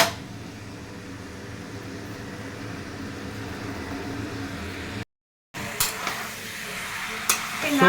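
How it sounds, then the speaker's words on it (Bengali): Raw meat is sautéed and stirred in a pan at home, making a steady low sizzle with scraping spoon movements throughout. A brief dead-silent break interrupts it, then the stirring resumes with a few sharper clinks. "সো এখন মাংসটা কষানো হচ্ছে বেশ সুন্দর করে।"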